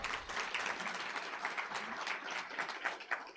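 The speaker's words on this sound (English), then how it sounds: "We can clap for that." An audience clapping at a dedication of a university gender and equality center, dense, even applause throughout, fairly faint and distant with no clear voices.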